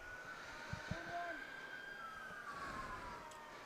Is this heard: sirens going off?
yes